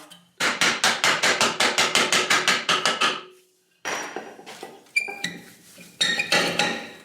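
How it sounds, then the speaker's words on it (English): A heavy hammer strikes metal about a dozen times in a steady, ringing rhythm on a BMW E90 318d rear wheel hub, then a pause followed by a few scattered clanks and clinks, loud and close. "Maybe deploy a big hammer."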